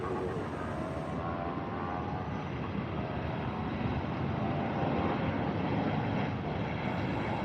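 Jet airliner taking off at Tampa International Airport during rush hour, a steady loud broadband engine roar sustained throughout with no talk.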